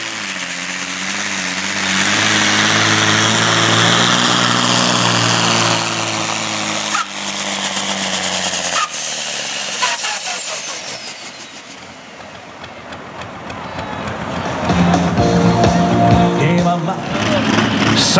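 Tractor engine at a 2015 regional tractor pulling championship in Ørum, roaring loud and close in a sustained rev that sags midway, then climbs back to a heavy, rough drone.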